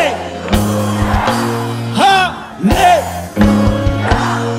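A large church congregation breaks into loud ululation and cheering, with long wavering high trills rising over a sustained bed of crowd noise and instruments, coming in repeated bursts close by.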